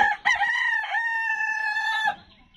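A Japanese Black Tail laying hen on a farm gives a loud, close, drawn-out crow-like call lasting about two seconds, followed by softer clucking.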